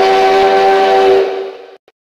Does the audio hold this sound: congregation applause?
no